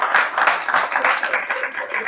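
Audience at a live French-language comedy show gives brief, scattered applause, dense handclaps rising and falling over about two seconds and mixed with murmuring voices.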